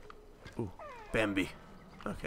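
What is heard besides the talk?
cat meowing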